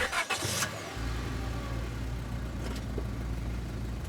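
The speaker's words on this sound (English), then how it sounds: "the truck quickly starts to rumble its way down the dirt road" A truck engine in a video game cranks and catches, then settles into a steady low rumble that continues alone to the end.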